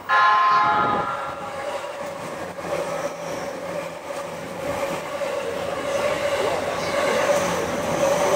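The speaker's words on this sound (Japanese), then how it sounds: "The train will soon be passing through track number 1." An E257 series train rumbles steadily through a station at close range, a broad mechanical roar with a sharp screech at the start and no speech.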